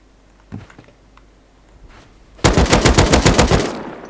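Rapid automatic gunfire in a video game, a loud burst of about a dozen quick shots lasting just over a second, preceded by faint scattered clicks and quiet background.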